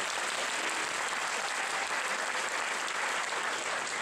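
A packed audience at a school final-exam concert claps continuously, a dense, even roar of applause with no pauses and only faint crowd murmur beneath.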